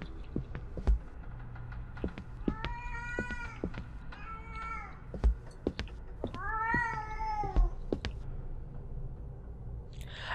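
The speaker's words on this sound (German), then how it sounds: "Das Geräusch zeigt mir, dass eine Katze in der Nähe ist." Several drawn-out cat meows in the video game ERIE, one after another, plaintive and fairly close, over a low hum with occasional soft thumps.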